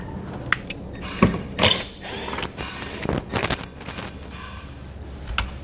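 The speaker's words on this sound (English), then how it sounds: "inside we're going to have two bolts that we're going to use a T15 Torx to remove" A T15 Torx driver backing out bolts on a vehicle's wiring assembly, with irregular close ratcheting clicks, metallic scrapes and short mechanical bursts, no talking.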